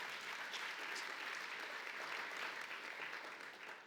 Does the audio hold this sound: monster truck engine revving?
no